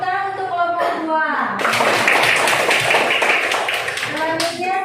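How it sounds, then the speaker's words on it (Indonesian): A classroom group of students in a teacher training course in Bandung claps for a presenting group, a burst of crisp hand claps lasting a few seconds, with a voice talking briefly before and after. "Tepuk tangan untuk kelompok 2."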